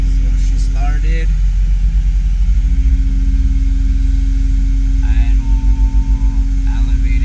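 A CAT 272 skid steer's engine idles steadily just after starting, a loud continuous low rumble and hum filling the scene, with brief voices talking over it now and then.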